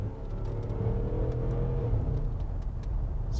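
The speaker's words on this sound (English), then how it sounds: "Pretty snappy upshifts." A supercharged Range Rover Sport with 140k miles accelerates hard, its engine rising in a steady loud whir and rumble through quick gear upshifts, heard from inside the cabin with no talking.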